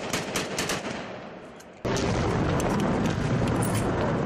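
Gunfire from an attack by a terrorist inside a mosque corridor, a dense sustained burst of shots and noise that jumps abruptly louder partway through and stays loud to the end, with no talk.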